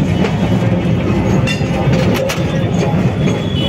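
A Kolkata heritage tram on Route 5 rumbles along its rails with a steady, loud, dense roar. Faint clatter and squeal flicker through the noise.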